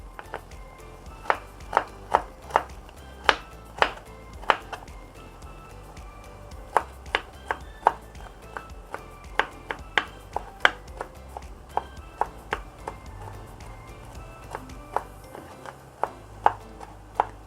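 A knife chops lemongrass on a cutting board in a home kitchen, preparing curry prawns: a steady run of sharp, close chopping strikes in quick irregular rhythm, with a brief pause near the end, no talking.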